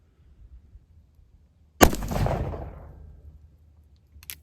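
A single loud gunshot from a .36 caliber cartridge conversion revolver loaded with heel-based bullets, fired from a rested position, a sharp crack with a rolling echo that fades over about a second and a half, after near silence.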